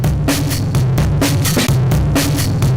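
A synth or instrument signal run through a power curve distortion effect comes out as a loud, dense, gritty buzz with a low hum underneath, pulsing in a steady throbbing rhythm with no gaps.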